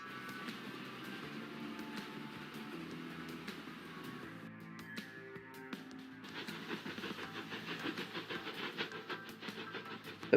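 Train running on track in Transport Fever 2, a continuous rolling rumble with rhythmic clicks and tonal hum, moderately loud, shifting midway as the sound thickens and grows busier.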